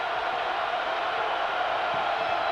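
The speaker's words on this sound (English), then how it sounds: "And that gets the crowd excited again." A basketball arena crowd at a college game between Iowa State and Kansas roars as one, a steady, far wash of cheering and noise that holds at an even level for the short span.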